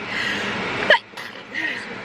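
A single sharp sneeze from a tired, overheated woman after a Zumba class, loud and close, with a hiss of room noise before it and faint murmuring after.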